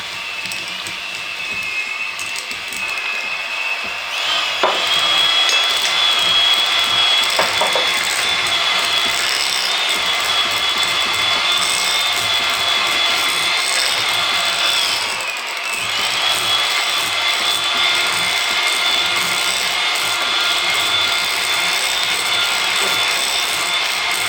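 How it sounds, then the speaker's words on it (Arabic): Electric hand mixer whipping mascarpone cheese with sugar for an Oreo tiramisu, a steady high motor whine running continuously with a brief pitch shift midway, close and alone without talk. "دابا غادي ندوز باش نطرب هاد الماسكاربون"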